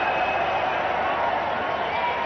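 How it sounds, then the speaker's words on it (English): Cricket crowd at a 2003 TVS Cup one-day match between Australia and New Zealand in Faridabad roaring for a boundary, a steady broad wash of cheering that holds level and loud throughout. "Huge roar from the crowd."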